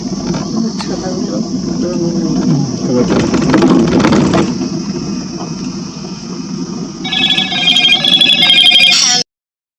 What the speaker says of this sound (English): it was not my phone ringing